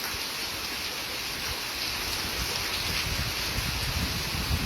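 Steady rain falls around a village house veranda, a continuous broadband hiss of drops with no voices, holding at an even, moderate level throughout.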